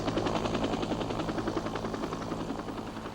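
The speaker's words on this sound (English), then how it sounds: "All afternoon, choppers landed on the rooftop and in the secure compound below" Military helicopters landing on the US embassy rooftop and in the compound below during the Saigon evacuation, a dense, continuous rotor thump and turbine roar, loud and near throughout, with no talking.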